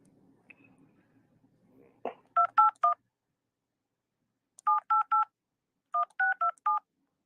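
Telephone keypad DTMF tones: a faint murmur and a click, then three crisp groups of short, evenly spaced beeps, three to four per group, clear and close with silence between.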